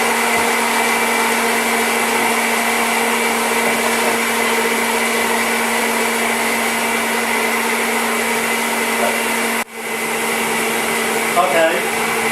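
A steady, loud electric mixer whirs continuously while beating egg whites to stiff peaks in a bowl for biscuits, a constant motor drone that briefly cuts out near the end.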